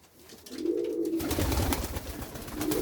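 Pigeons in a coop give soft, close cooing calls, a low throaty coo repeated over a faint background rustle.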